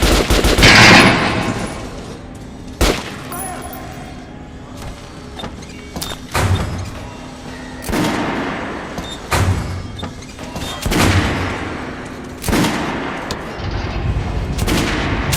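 Kalash assault rifle fire in the video game Metro Last Light: loud, sharp single shots and short bursts at irregular intervals, each followed by a ringing tail and mechanical clatter.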